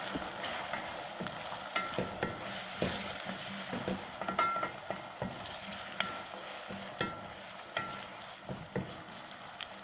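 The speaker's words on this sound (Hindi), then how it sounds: "आधे टमाटर डालेंगे। फिर अच्छी तरह मिक्स कर लेंगे।" Tomatoes being stirred into mixed vegetables frying in a pan for a mixed sabzi, with a steady sizzle and repeated scraping stir strokes, close by and with no talking.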